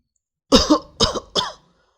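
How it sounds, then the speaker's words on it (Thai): Three dry coughs come from the front of a house, short and close together, each a harsh burst with brief silence between them and no other sound around. "เสียงไอแห้งๆดังมาจากหน้าบ้าน"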